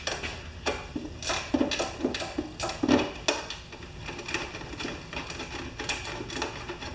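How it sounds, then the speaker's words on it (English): A ratchet wrench clicks in quick irregular bursts while working on a Snowking snow blower, close and fairly loud with faint clanks and shuffling around it. "Ratchet wrenches."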